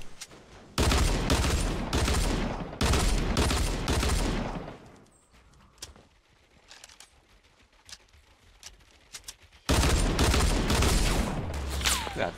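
In Fortnite, pistol fire comes in dense rapid volleys of sharp, loud shots in several bursts, with a quieter stretch of scattered single pops and faint ambient noise before another long barrage.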